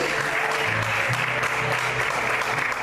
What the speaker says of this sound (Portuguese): Você pode glorificar e aplaudir ao Senhor nesta noite